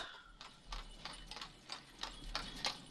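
Cows being led along in the village-building video game Ostriv, hooves clopping in an irregular series of soft, quick knocks over a low background hum, moderately faint.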